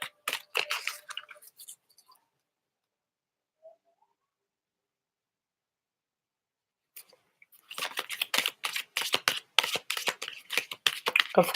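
Tarot cards shuffled for a reading, bursts of rapid crisp riffling and flicking close by, first briefly then a long continuous stretch after a quiet pause, with a voice speaking.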